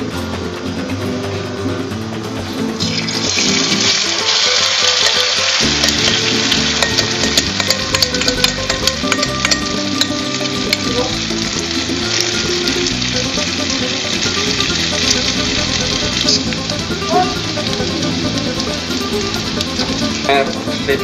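A steady sizzle of a Spanish tortilla (potato omelette) frying in a frying pan, with occasional scraping and clinks, continuing loudly for a long stretch.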